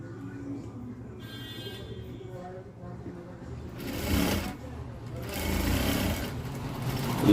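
A sewing machine runs while stitching a blouse lining, a steady low mechanical whir that grows louder with bursts of faster running toward the end, as a voice talks over it in places.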